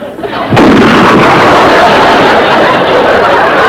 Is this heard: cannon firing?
yes